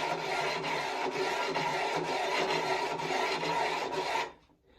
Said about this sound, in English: I'll move the blade slightly one way or the other so that I'm not going over the same part of the stone every time.